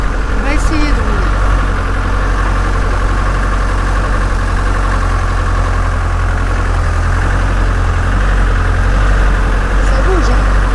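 A vehicle's engine idles and pulls away during a storm in Spain, a steady low rumble running throughout with wind noise, while a person speaks over it.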